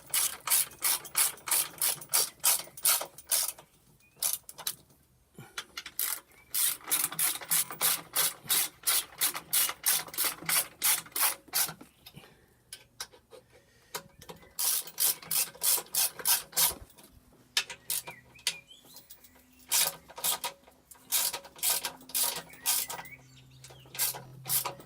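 Ratchet wrench tightening bolts on an MG F coil conversion kit, rapid repeated clicking strokes in close, loud bursts separated by brief pauses while the tool is repositioned.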